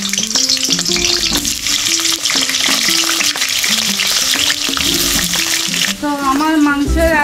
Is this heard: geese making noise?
no